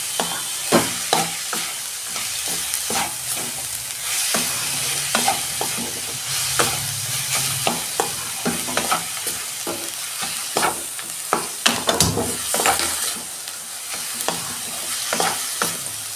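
Coconut filling stirred in a pan over a low gas flame, heard as a long run of close scraping and clinking spoon strokes above a soft, steady sizzle, with no voices.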